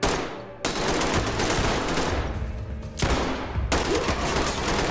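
A shotgun fires in the tactical video game Ready or Not: heavy, booming blasts in quick succession, each with a harsh crack and a lingering decaying tail, loud and up close, with no talking.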